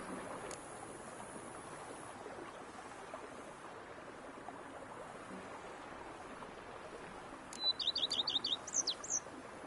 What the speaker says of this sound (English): Me and you, peace and quiet, bees buzzing, birds chirping.